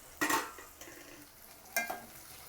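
Tomato pieces dropped into a pan of onion and ginger-garlic paste for Andhra-style chicken curry, giving two short bursts of frying and stirring with a soft sizzle between, close and fairly quiet with no talking.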